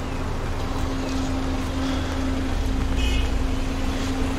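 A Peugeot 407 Coupe engine idles with a steady low hum and a constant tonal drone, with a slight swell in rumble near the end.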